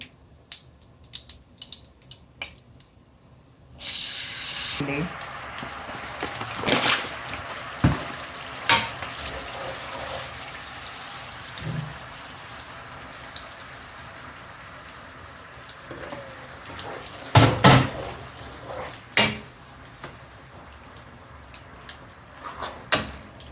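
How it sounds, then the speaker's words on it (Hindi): Water is poured into a pan of hot, crackling sugar while making sweet zarda rice. After a few quiet clicks, a sudden burst of loud sizzling and hissing rises, then settles into bubbling and spitting with occasional clatters and sharp pops. "अब ये कड़कड़ा रही है, अब मैं इसमें डालूंगी अपना पानी।"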